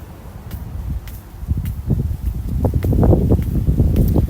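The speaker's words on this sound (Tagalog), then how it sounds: "Mahangin, Diyos ko Lord." Gusty wind buffets the microphone, building from a low rumble to a stronger, steady roar with faint rustling throughout.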